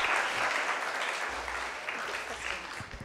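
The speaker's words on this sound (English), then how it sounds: "How about a round of applause for Gail?" Conference audience applauding a speaker, a brief burst of dense clapping from the room lasting about three seconds, with faint voices underneath.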